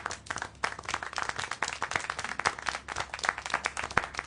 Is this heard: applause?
yes